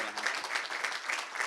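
Audience applause at an awards announcement for a third-place company, a steady wash of many hands clapping at moderate level with no talk over it.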